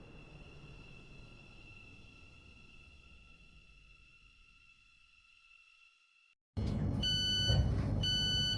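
A five-coach Stepford Connect train arrives at Leighton City station in a video game, its low rolling rumble fading away to near silence before a loud burst of sharp electronic beeping tones.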